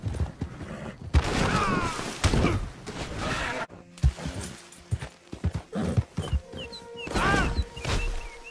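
Hooves clip-clop at a gallop while horses whinny in Red Dead Redemption 2, with sharp crashes and gunfire-like bursts scattered through the busy, loud game action.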